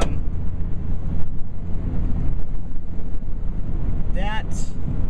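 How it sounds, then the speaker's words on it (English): Wind gusting through an open window, a constant buffeting roar with low rumble and microphone rush, joined by a brief, faint voice toward the end. "let me close this window so that it's not super windy for you guys"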